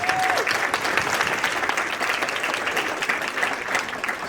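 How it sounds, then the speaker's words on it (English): A youth crisis conference audience gives steady, full applause that continues unbroken for several seconds, with a brief vocal whoop near the start. "So let's give a round of applause."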